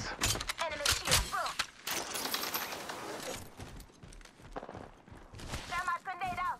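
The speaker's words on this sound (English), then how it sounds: "I'm taking fire" Incoming gunfire in the video game Apex Legends: rapid bursts of sharp, close cracks and shattering impacts come in clusters throughout, mixed with overlapping game voice chatter.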